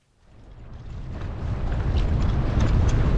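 Strong wind roars across a sailboat near Delos, building from quiet into a steady loud rush with water and hull noise underneath.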